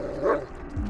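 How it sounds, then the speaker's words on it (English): One short, sharp dog bark from a dog in the Blair Witch video game, heard close and alone. "what are you what are you barking at?"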